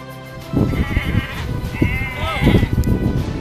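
Sheep bleat in a field, several wavering calls overlapping against outdoor background noise, fairly close and loud.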